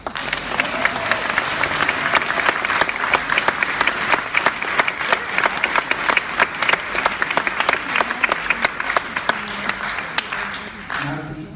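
Debate audience applauds all the candidates at a women's forum in Montgomery County, Maryland, a sustained wash of dense clapping lasting several seconds before cutting off abruptly at the end.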